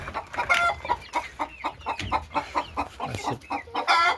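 Several black Cochin bantam chickens cluck and murmur close by in a busy, overlapping chorus, with short sharp calls popping out over a steady farmyard chatter.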